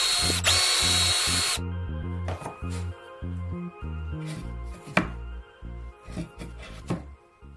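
A power drill whines in several short bursts separated by pauses as it drills holes into wood, close up, with a brief higher-pitched spin at the start.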